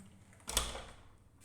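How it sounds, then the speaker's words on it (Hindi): A gate is pulled shut from inside a room with a single short clack, heard against a quiet background. "मैं गेट बंद कर देता हूँ"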